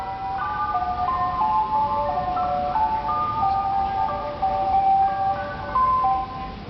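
An ice cream truck's tinkling melody jingle plays continuously and fairly loud, a thin music-box tune repeating with a faint vehicle rumble beneath.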